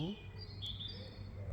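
Birds chirp in trees beside a small vegetable garden, high thin tweets drifting over a steady background hum, fairly faint and distant.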